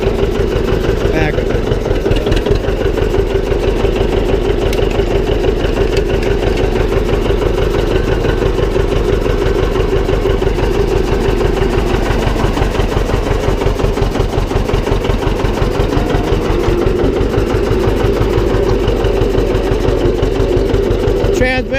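A John Deere 720 diesel tractor runs with a loud, steady, close-up chugging throb that holds evenly throughout.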